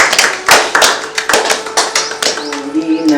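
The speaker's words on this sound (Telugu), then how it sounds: "గట్టి క్లాప్స్ కొట్టండి." An audience claps loudly at a Mother's Day celebration held by a charitable trust, a dense run of sharp hand claps with uneven rhythm filling the room, with a few voices faintly mixed in.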